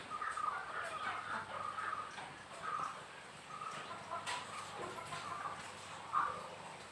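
Native chickens cluck softly in a poultry coop built from old asbestos and tin sheets, scattered short calls over a quiet background.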